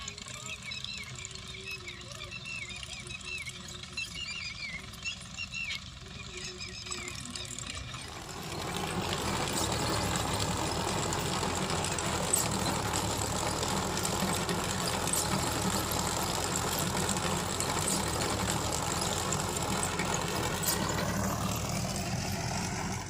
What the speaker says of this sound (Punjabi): ਦੂਸਰੀ ਸਾਈਡ ਨੂੰ ਟਰੈਕਟਰ ਚੱਲ ਪਿਆ